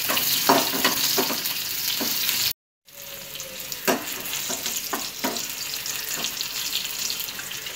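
Small peeled shallots sautéing in a pan for a drumstick masala poriyal, a continuous sizzle with intermittent stirring taps and a short break partway through.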